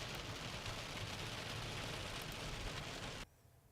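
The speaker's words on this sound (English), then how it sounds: "Heavy rain at this point." Heavy rain pours in a steady, dense roar during severe weather, loud and constant before cutting off abruptly to near quiet at the end.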